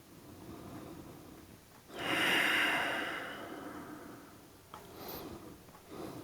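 A slow, audible exhale during a yoga session swells in at about two seconds and tapers off over a couple of seconds, followed by a softer sniff or short breath, quiet and close with no talking.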